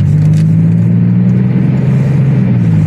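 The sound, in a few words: turbocharged Toyota/Lexus GS300 engine revving in first gear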